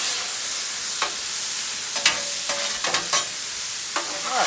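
Meat and vegetables for pad thai frying on a well-seasoned Blackstone griddle, a steady broadband sizzle broken by several sharp scraping strokes of a spatula, close and fairly loud with no voices.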